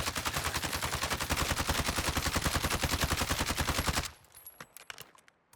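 Rapid automatic gunfire from a Commando-equipped rifle in Call of Duty Warzone, a loud, tightly spaced stream of shots lasting about four seconds before cutting off to a few faint scattered pops.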